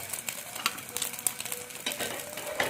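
Bread omelette frying in a pan, a soft continuous sizzle with scattered crackles and a few brief clinks, close by and fairly quiet, with no talk.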